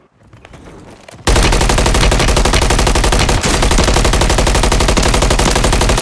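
Loud, sustained machine gun fire in Call of Duty Warzone starts abruptly after a quieter moment of softer shots and keeps going as a dense, unbroken rapid burst.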